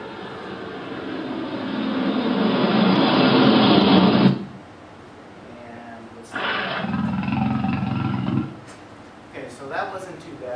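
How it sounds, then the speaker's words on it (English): A jet fighter roar plays as a sound effect, with two loud, rushing bursts of engine noise, the first swelling over about four seconds and the second shorter, then a few faint knocks. "And there's the jet fighter."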